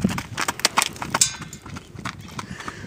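A horse carrying a saddle for the first time clip-clops outdoors, with a quick run of sharp, close hoof strikes that is loudest early and then settles into lighter, uneven steps.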